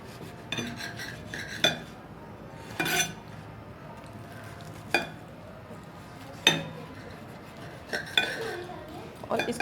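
A knife slicing a toasted veg sandwich on a board makes a few separate crisp cuts and taps, close and fairly quiet, with soft kitchen clatter between them.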